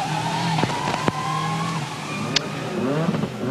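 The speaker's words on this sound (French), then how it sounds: "Petit coup de frein à main." A rally car making a handbrake turn: its engine revs hard and drops back, with brief tyre scrub and skidding up close, loud and alone, no voices.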